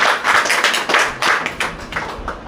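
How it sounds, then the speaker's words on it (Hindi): An audience bursts into applause at a business seminar, a loud run of dense clapping that rises and falls in several waves over a few seconds, with no one speaking. "इसलिए एक बार जोरदार तालियां।"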